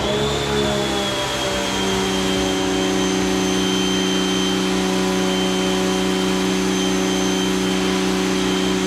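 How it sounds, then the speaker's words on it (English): A Giraffe Tools Grandfalls retractable power washer running, a loud steady motor whine with a pump drone that rises in pitch at startup and then holds even, close and alone. "As we're having fun with the power washer, you can see Nathan, I mean, this thing is effective."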